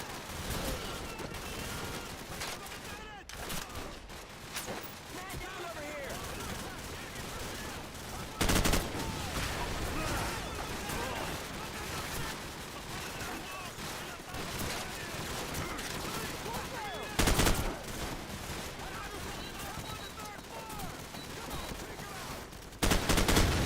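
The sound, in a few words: gunfire in a video game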